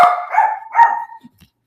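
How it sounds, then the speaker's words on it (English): Dogs bark at home, three loud, close, sharp barks in quick succession, followed by a couple of faint trailing sounds and silence. "my dogs are going crazy"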